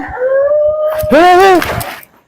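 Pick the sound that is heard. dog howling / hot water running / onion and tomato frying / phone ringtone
dog howling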